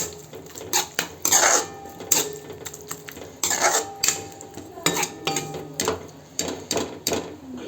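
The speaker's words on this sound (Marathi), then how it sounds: "ह्यात घालूया बारीक चिरलेली कोथिंबीर आणि छान मिक्स करून घेऊया" A utensil stirs onion-tomato chutney with chopped coriander in a pan off the heat, making close, irregular metallic scrapes and clinks in quick bursts with brief pauses between, and no voices.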